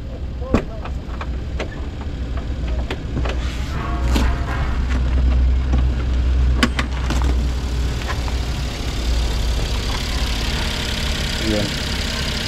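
A minivan's engine idles with a steady low rumble, joined by a few scattered thumps and knocks, while voices talk nearby.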